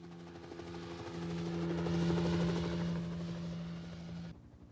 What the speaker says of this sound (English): I'm impressed you've got your own whirlybird.